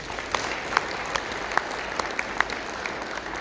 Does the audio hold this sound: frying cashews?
no